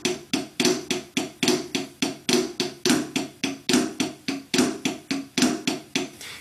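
A drummer plays the Swiss Army Triplet rudiment, a steady run of crisp stick strokes falling in repeating groups with accented flams, close and clear with no talking.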